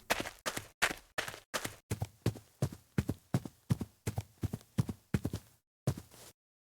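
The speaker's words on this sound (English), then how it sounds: "the only thing I can hear really is like the sound of my footsteps" Footsteps crunch along a forest path in Garry's Mod, a steady run of about fifteen close, distinct steps with a short gap near the end.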